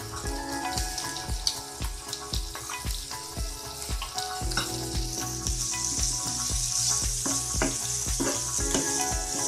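Onion, chili and garlic sizzling in a hot pan for baingan bharta, crackling and popping up close with occasional stirring scrapes.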